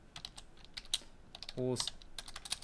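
Keys clatter on a computer keyboard in short bursts of close, crisp clicks, broken midway by a brief voiced sound from someone nearby.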